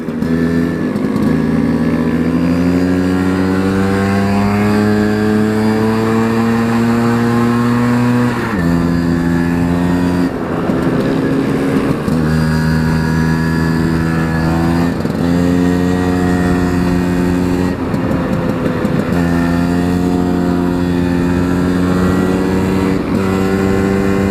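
A car engine pulls hard in third gear on a road drive, droning loudly and continuously with rising and falling pitch and brief dips where the throttle eases.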